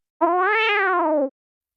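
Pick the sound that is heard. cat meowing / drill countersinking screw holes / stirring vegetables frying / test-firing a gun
cat meowing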